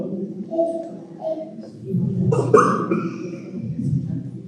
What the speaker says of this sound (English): Is that a purposeful cough to remind people that they're still talking?